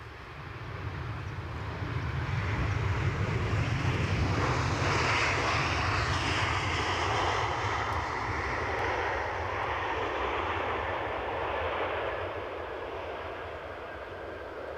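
A Norwegian Boeing 737 jet passes with a rising then sustained engine roar, swelling to a loud peak midway and slowly easing off, heard alone without speech.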